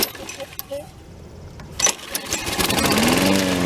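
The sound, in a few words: Toro Personal Pace 20332 lawn mower pull starting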